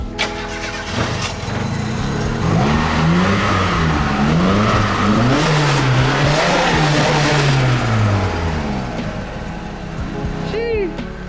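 A drift car with a CA18 turbo engine accelerates hard nearby, its loud engine note climbing and dropping through repeated revs before easing off near the end.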